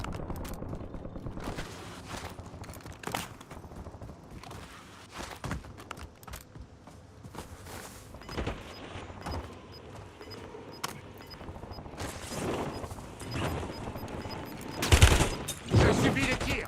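Call of Duty gunfire in a Resurgence match: scattered shots and short bursts, some close and some distant, spread across the clip with footsteps and an occasional voice in between.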